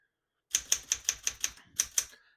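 Keys strike one after another on a 1972 Smith-Corona Classic 10 portable typewriter, about eight crisp clacks in a steady rhythm, close and loud, with no voices.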